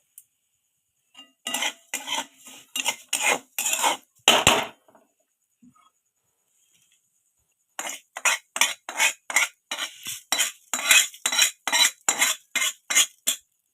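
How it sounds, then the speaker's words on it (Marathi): Roasted rice scooped out of a pan with a metal spoon, a steady run of sharp scraping clinks in two bursts separated by a quiet pause, close and alone with no talk. "आपल्याला तांदूळ पण काढून घेऊया बाजूला"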